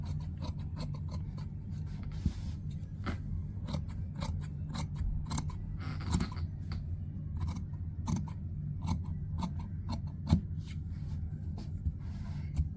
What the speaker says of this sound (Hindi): साइज़ के हिसाब से जो हमने लाइनिंग काटी है, अब ये वैसे कटेगा।